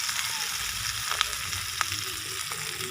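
Ginger, onion and garlic fry in a pan in a home kitchen, a soft continuous sizzle with a few small clicks of a utensil against the pan, fairly quiet and close.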